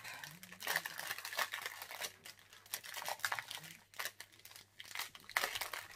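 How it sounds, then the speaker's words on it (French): Plastic packaging from an AliExpress order of beads being unwrapped, with bursts of crinkling and tearing in irregular handfuls, close and fairly quiet, separated by short pauses. "Cette fois-ci, je vais les déballer."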